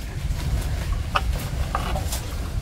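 Chickens on a rural farm in the Mekong Delta cluck in short, close bursts over a low background rumble.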